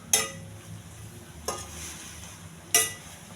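Cauliflower fries in a pan with chili powder and turmeric, a low sizzle running throughout while a utensil stirs and scrapes three times in sharp, evenly spaced strokes, with no voices.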